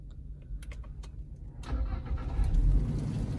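Car engine starting by push-button start after unlocking with a digital car key, a short mechanical catch followed by the motor settling into a steady idle, close and moderately loud with a few light clicks before it.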